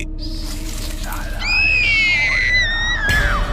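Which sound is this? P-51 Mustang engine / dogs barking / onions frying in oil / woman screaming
woman screaming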